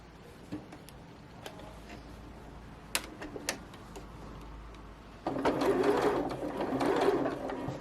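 A sewing machine stitching felt bunting, first a few faint isolated ticks and clicks, then a steady loud mechanical whirr of rapid stitching starting partway through and running to the end.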